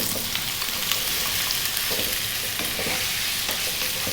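Potato pieces frying over fairly high heat with cumin seeds and salt, a dense, even, loud sizzle that holds steady throughout, with faint stirring movements and no talking.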